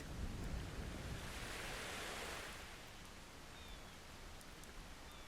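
Ocean waves in the video game Book of Travels rush as a soft, broad hiss that swells early and then gradually fades to a quieter wash, with no voices.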